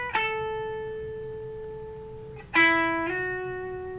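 An electric guitar part played clean without effects, two plucked notes each ringing briefly with clear harmonics and decaying quickly, with a short muted gap between them.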